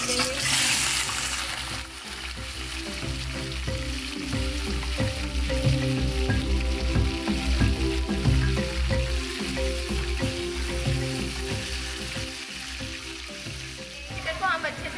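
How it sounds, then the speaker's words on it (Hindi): Chicken frying in a karahi, a loud, dense, continuous sizzle close up that holds steady for the whole stretch with a bright burst at the start and small stirring knocks underneath. "चिकन को हम अच्छे से फ्राई कर लेंगे।"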